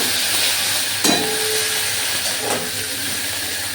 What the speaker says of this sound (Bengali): পাঁচ ফোড়ন দেওয়ার পর আমি পেঁয়াজের বাটাটা এর মধ্যে অ্যাড করি